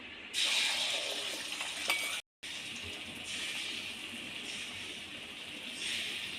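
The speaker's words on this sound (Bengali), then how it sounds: "এবার ওই তেলের মধ্যে আমি ডিমটা ভেজে নেব" An egg frying in hot oil gives a steady, fairly close sizzle with a short break partway through and a few faint clinks; no one speaks.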